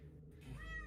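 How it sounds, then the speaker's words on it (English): A single short, faint cat meow rising near the end of a brief, quiet moment over low background hum. "Also, sorry about the cat"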